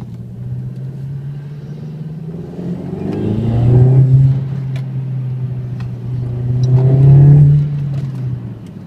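A black 2002 SEAT Leon 20V Turbo Cupra, mapped to 270 bhp, is driven fast past a roadside listener: a steady engine rumble swells into two loud revving passes with gear changes, fading between them.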